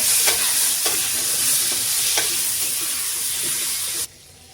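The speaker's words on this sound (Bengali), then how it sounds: "কচুগুলো দিয়ে দিচ্ছি এখন কচুগুলো একটু কষিয়ে নেব" Taro pieces sizzle and fry steadily in a hot pan with a few sharp stirring scrapes at regular intervals, close and continuous until the sound suddenly cuts off near the end.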